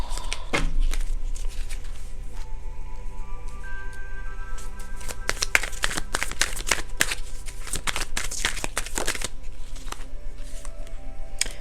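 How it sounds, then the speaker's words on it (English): A deck of playing cards is shuffled close up, with repeated riffling bursts and quick fluttering snaps against a quiet background. The bursts grow denser and louder toward the middle and end. "I don't want these cards because I didn't shuffle."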